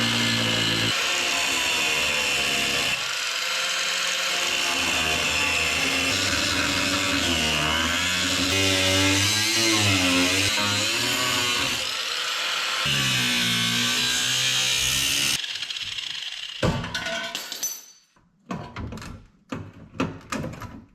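A fresh cut-off wheel grinds through the corner metal of an old truck cab during a cab corner repair, a loud, continuous high-pitched shriek that holds for about fifteen seconds before breaking into scattered clanks and quieter bursts.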